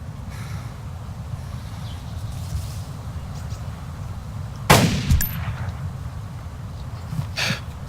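Gunfire in the video game DayZ: one sharp, loud shot cracks out midway, followed by a fainter echoing report and a later distant pop, all over a steady low rumbling background.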